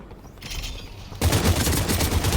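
Gunfire in a squad battle video game, where a quieter stretch gives way to loud, rapid bursts of automatic fire that continue without a break, and no voices can be heard.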